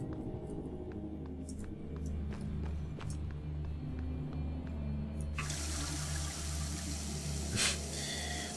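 Water runs continuously from a tap aboard a space station in the game Prey, a steady rushing flow under a low rumble that swells brighter and fuller partway through.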